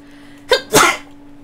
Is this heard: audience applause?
no